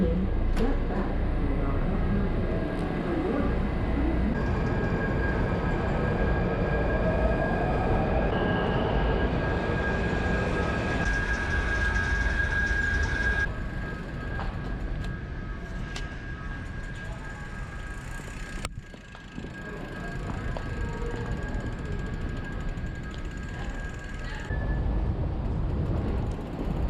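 Washington D.C. Metro train on the move, a continuous loud rolling rumble with a whining tone that eases off, then a brief dip before the noise builds again.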